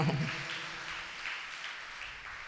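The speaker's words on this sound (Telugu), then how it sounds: "కొట్టు చప్పట్లు గట్టిగా" An audience at a Christian sermon gathering claps hands together in a dense, steady burst of applause that stays fairly loud for a few seconds, easing off slightly toward the end, with no talking over it.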